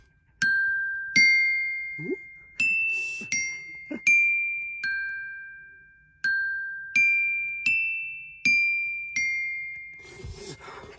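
Glockenspiel struck with mallets, about a dozen bright metallic bar notes ringing out one after another at an unhurried pace, each decaying cleanly, close and alone with no talk.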